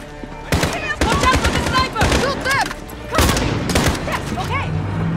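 Call of Duty Modern Warfare gunfire comes as loud, close automatic bursts, two long rattling volleys with quick repeated shots and ringing tails over continuous game sound.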